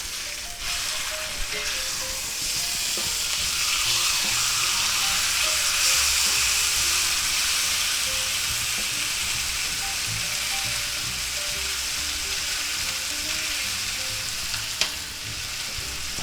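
A chuck steak sizzling in a cast iron skillet over reduced heat, a continuous close, loud frying hiss with occasional faint pops, steady throughout.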